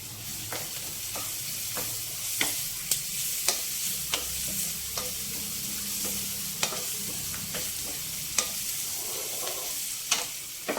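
Ginger garlic paste and onions fry in a pan for a paneer mixed vegetable curry, giving a continuous sizzle with repeated sharp scrapes and taps of a stirring spoon, close and clear with no talking.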